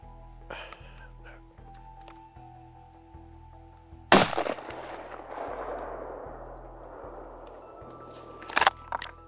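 Rifle shot fired during a driven deer hunt in Swedish woodland, one sharp loud crack with a long rolling echo, then a second shot near the end, over faint background noise.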